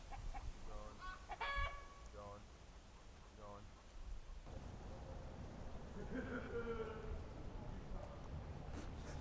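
Several chickens cluck in short bursts, nearby but fairly faint, over a constant background hum.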